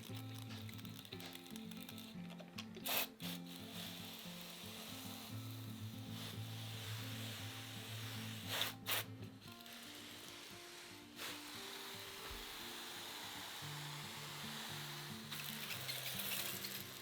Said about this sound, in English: then we're going to kind of lightly spray it until the vermiculite gets kind of wet, and then we'll go a little bit heavier with the spray